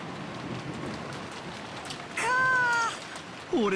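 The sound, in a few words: rain sound effect from the visual novel game Umineko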